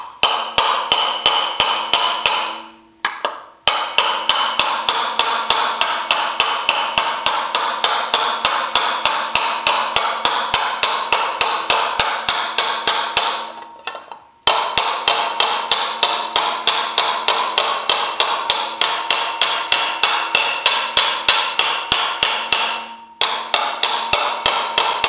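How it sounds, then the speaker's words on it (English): Light, even hammer strikes shaping a metal motorcycle fender with hand tools, a rapid, steady stream of close ringing taps broken by two brief pauses, loud and alone. "I'm going real light, and I'm trying to stay very even with my hammer strikes."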